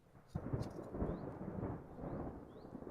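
Low rumbling thunder rolls in over a steady hiss of rain, with a few faint chirps in the background.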